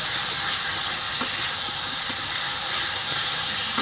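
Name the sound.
vegetable curry frying in a pan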